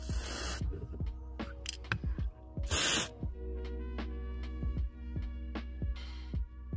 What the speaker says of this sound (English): Just spray it all around that area.